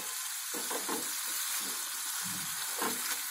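Prawns in poppy seed paste fry in a pan while being stirred, a soft sizzling bed broken by repeated scraping strokes of the spoon, close and moderately quiet.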